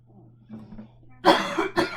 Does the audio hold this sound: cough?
yes